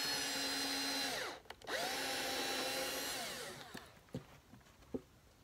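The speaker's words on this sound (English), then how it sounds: "I'm drilling a hole through the wood" Close by, a power drill pre-drills a hole through wood for dog pen stairs, running with a steady whine, pausing briefly, then revving up again before stopping, followed by a few light knocks and clicks.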